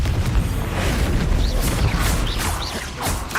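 Confringo fire spell blasting in Hogwarts Legacy, a series of loud whooshing bursts and booms over dense, continuous rumbling combat noise.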